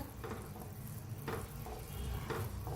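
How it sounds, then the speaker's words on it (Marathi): Sugar syrup for besan boondi, tinted with food colour and spiced with cardamom powder and two cloves, stirred in a pan with a soft steady sizzle and three brief scraping strokes roughly a second apart. "आता याला पुन्हा हलवून घ्या पाकाला।"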